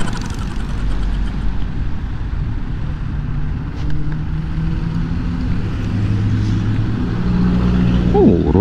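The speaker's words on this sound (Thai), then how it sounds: "รถเยอะจริงๆอะเช้าเนี้ย" Busy morning road traffic of cars and motorbikes makes a continuous, loud, close engine rumble, with passing vehicles swelling and fading in a dense, unbroken drone.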